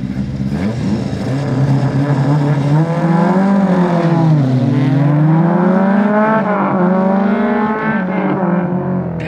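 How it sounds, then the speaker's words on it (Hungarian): Opel Astra F and Opel Kadett GTE race cars at a historic racing event, engines loud and close, revving hard with pitch climbing, dipping as the throttle lifts, then surging again in a continuous roar. "Végre megint versenyautót hallani. Igen, és minden gázelvételt hallani."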